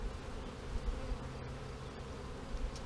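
Dense, steady buzzing of many honeybees around an open hive during a Snelgrove hive split, with no voices.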